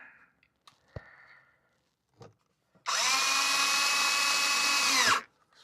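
A power drill driving a screw whirs steadily for about two seconds, high and close, after a few faint knocks and near silence, during a 1999–2007 Chevrolet Silverado ABS repair.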